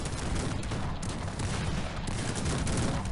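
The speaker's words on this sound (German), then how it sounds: "Kanonen, feuert!" Massed cannons fire in the Cossacks 3 historical strategy game. A dense, loud barrage of overlapping booms and cracks runs without a break for the whole stretch.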